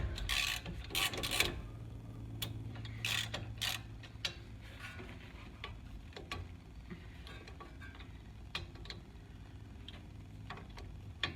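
Ratchet wrench loosening the brake caliper bolts with a 12mm socket on a 2007 Mustang GT during a wheel hub replacement, giving a run of close, sharp clicks, densest at the start and sparser later, with no talking.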